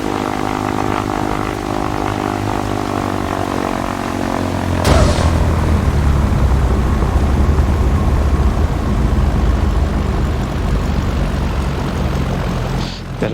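A light propeller aircraft engine drones steadily, then the throttle is pushed up and the roar swells louder and rougher and holds there, close and continuous.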